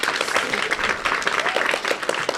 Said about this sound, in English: thank you for applauding my name.